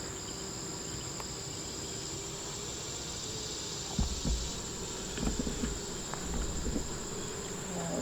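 Honeybees buzzing inside an open beehive with drawn comb filling with honey, a steady close hum with faint scattered knocks and handling sounds from the frames.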